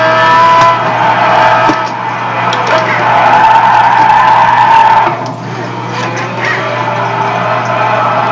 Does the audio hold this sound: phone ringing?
no